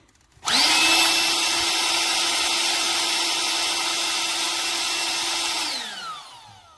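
Ryobi air duster on its single speed setting, switching on abruptly into a loud, steady high-pitched whine with a rushing air blast, holding constant for about five seconds before spinning down.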